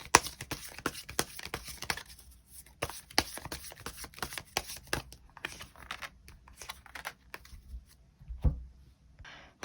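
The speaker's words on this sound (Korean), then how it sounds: "추가 카드 뽑아보도록 하겠습니다" Tarot cards being shuffled and drawn, a long run of quick, crisp riffling flicks and slaps close by, with brief pauses and one soft thump near the end, no talking.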